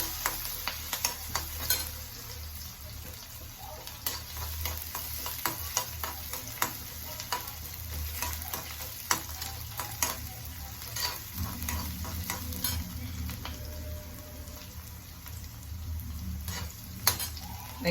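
Tempering for sambar in a pan, with finely chopped green chilli and ginger added to hot oil, gives a soft, continuous sizzle and fry, dotted with sharp spluttering pops and crackles over a low background hum.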